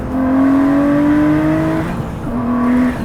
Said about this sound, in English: when you unleash the engine, it just roars back on its haunches and wakes up like a Godzilla